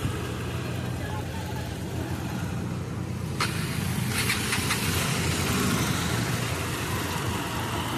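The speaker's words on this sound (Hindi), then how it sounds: "और अभी ट्रैक्टर से ये सामान वगैरह जा रहा है" A tractor hauls sand and materials past a busy street crossing near the Sangam in Prayagraj during Magh Mela preparations, its engine a steady, fairly loud rumble throughout, with crowd noise and speech mixed in.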